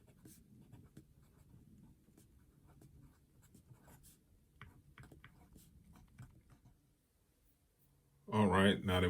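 Pen or marker writing by hand on a board or paper while exponent rules are taught, soft scratchy strokes running steadily for several seconds, then a louder burst of voice near the end.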